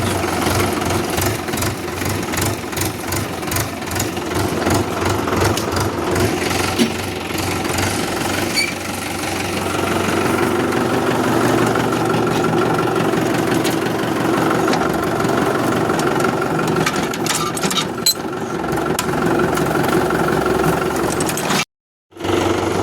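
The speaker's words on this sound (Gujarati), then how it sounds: "આપણે ટ્રેક્ટર લઈને નીચે જઈએ છીએ" A farm tractor's engine runs steadily and loudly nearby with a knocking, chugging drone that continues almost the whole time before cutting out for a moment near the end.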